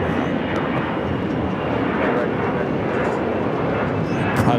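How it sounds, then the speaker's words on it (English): Airbus A380 Super of Flight 201 bound for Seoul at Los Angeles airport, a steady broadband engine roar holding at even loudness throughout, with faint talk underneath. "Again, this is Flight 201 headed back to Seoul,"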